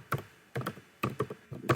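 Computer mouse clicks during a lecture, a handful of close, sharp taps spaced about half a second apart, some doubled, with no talking.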